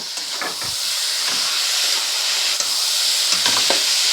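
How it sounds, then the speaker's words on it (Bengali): Chopped onions and tomatoes go into a pot of mutton for Bengali kosha, producing a steady loud hiss of frying with occasional clattering spoon scrapes and stirring knocks, no talk. "এখানে যে 4খানা পেঁয়াজ আর 4খানা টমেটো কেটে রেখেছিলাম সবগুলো এর সঙ্গে দিয়ে দেব।"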